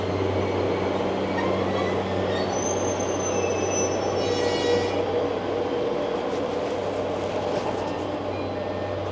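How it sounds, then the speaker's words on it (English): Local train pulling into Arita station near Sasebo, a loud continuous rumble of rolling wheels with high metallic squeals of wheels and brakes, easing off as the train slows. "Nice train."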